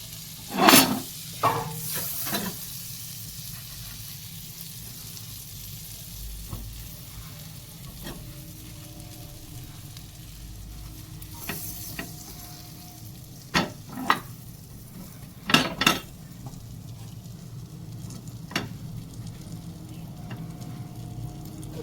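Butter for pav bhaji sizzles in a hot kadai, a soft continuous fizz close by, punctuated by several loud scraping and clanking stirs of a ladle against the metal.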